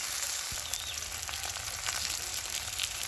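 Eggplant slices, coated in turmeric, salt and chili, frying in hot oil, giving a steady, dense sizzle with a few faint crackles and soft stirring clicks, close and continuous without speech.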